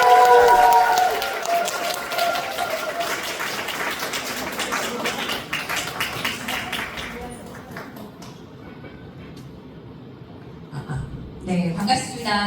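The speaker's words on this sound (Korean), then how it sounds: "큰 박수로 맞이해주시죠" An indoor audience at a Korean counseling speech lecture claps loudly to welcome the speaker. The applause is strong at first, then fades out and gives way to quieter room sound before noise picks up again briefly at the end.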